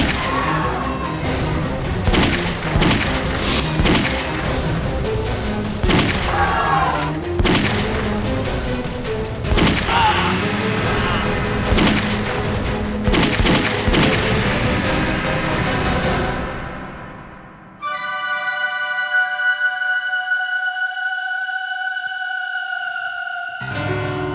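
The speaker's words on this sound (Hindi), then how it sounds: "किसने गोली चलाई?" Gunfire in a CID police drama scene: a long run of sharp, loud shots and crashes for about seventeen seconds, then it stops abruptly as a sustained musical tone takes over.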